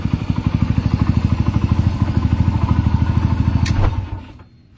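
A restored Kawasaki Barako single-cylinder motorcycle engine idles on its stock carburetor with a steady, close, chugging putter of even beats, revving briefly before cutting off into silence.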